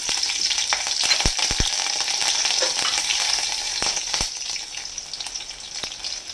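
Mustard seeds and green chillies sizzle in hot oil as a tempering before pumpkin and drumsticks go in, a bright steady hiss punctuated by sharp popping crackles, close and fairly loud, easing slightly toward the end.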